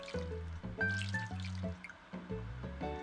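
Water pouring from a watering can in the farming game Harvest Moon, short bursts of trickling and splashing with gentle drips, set against soft in-game background music.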